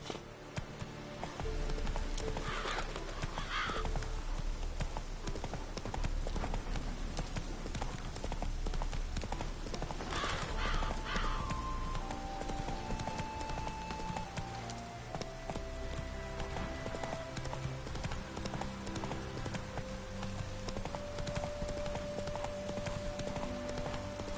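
Horse hooves gallop in The Witcher 3 video game, a fast, steady clip-clop that runs the whole time, loud and close, with music tones and occasional other game sounds underneath.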